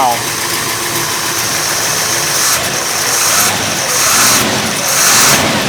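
A 1962 Corvette engine runs again after years sitting, idling steadily with a few gentle rises in revs, loud and close under a hissing, noisy background.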